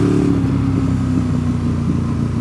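A high-mileage motorcycle engine runs steadily up close, a loud, even droning hum that holds for a couple of seconds with a slight dip in pitch, with no voices over it.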